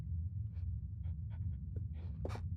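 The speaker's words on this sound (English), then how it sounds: "That's like a breathing." Quiet, raspy creature breathing in the horror game Penumbra, a few soft huffs and pants spread over a low steady rumble with no talking.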